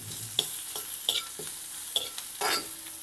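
Curry leaves and chillies dropped into hot oil already tempered with mustard seeds and cumin for upma crackle and sizzle, while a spoon stirs the pan with a few sharp scrapes and clinks.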